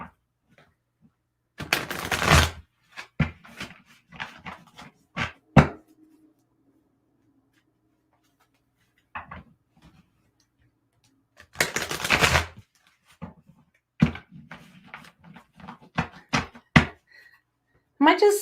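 Playing cards riffled and shuffled by hand in bursts of dense crackling, with quiet gaps and light handling taps in between, close and moderately loud.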